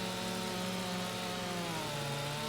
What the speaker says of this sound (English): how the blade on the chainsaw gets through the other side